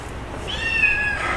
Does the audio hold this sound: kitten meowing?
yes